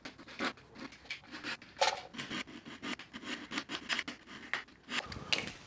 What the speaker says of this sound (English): and then you're just sanding